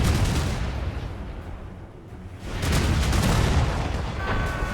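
Heavy booming blasts of cannon fire in the video game Assassin's Creed Rogue, loud and rumbling, with a dense roar that swells again after a brief dip.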